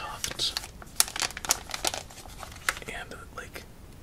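Wrapper packaging from a Japanese snack mystery box crinkles and crackles in close, sharp bursts, while a soft whispering voice is heard.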